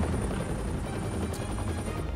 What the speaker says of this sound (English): Oh, a helicopter.